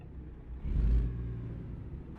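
A Kenworth W900 truck engine in American Truck Simulator rumbles at a steady low idle, swelling briefly as it revs before settling back to a constant drone, with no talk over it.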